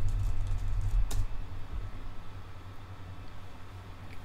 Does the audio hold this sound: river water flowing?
no